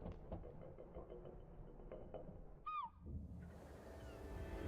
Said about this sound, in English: Hearing seagulls.